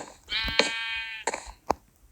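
Sheep bleating in a block-building video game: one long wavering bleat followed by a few shorter clicks and taps, close and clear with no talk.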